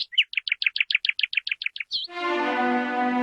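A sparrow at its nest gives a quick run of about a dozen sharp, evenly spaced chirps, then a sustained bright tone takes over.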